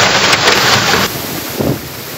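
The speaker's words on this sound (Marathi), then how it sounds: "ऐन दुपारी आकाशात काळे ढग जमले आणि जोरदार पाऊस बरसू लागला।" Heavy unseasonal rain with hail in Nashik district, Maharashtra, a loud dense roar of rain and wind rushing against the microphone that drops off sharply after a second, with a brief gust later.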